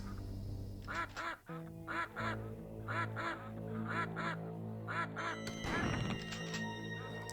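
Ducks quack repeatedly in the video game Killing Time: Resurrected, in short clustered bursts over a low game hum, with a louder splash or noise burst near the end.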